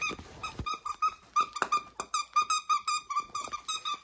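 A dog yelps and whines in a rapid, uneven series of high-pitched cries, close and fairly loud, with no talk over it.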